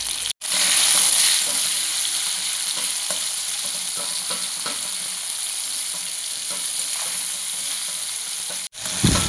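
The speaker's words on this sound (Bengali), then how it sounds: "আদা, টমেটো, দিয়ে দেবো টমেটোটা নরম হওয়ার জন্য।" Ginger and tomato frying in a pan with cumin, a loud continuous sizzle with faint stirring scrapes throughout, close and steady.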